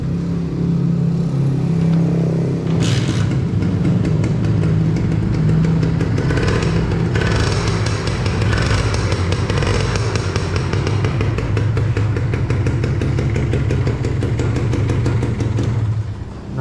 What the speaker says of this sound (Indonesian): dari suara mesin juga sebentar saya hidupin ya